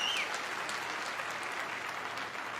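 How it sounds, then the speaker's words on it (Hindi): A large hall audience at a direct-selling motivational event gives sustained, even applause, a broad wash of many hands clapping at once, with a brief whistle at the very start. "एक जोरदार तालियां हम सबके महागुरु डॉक्टर संजीव कुमार गुरु जी के लिए"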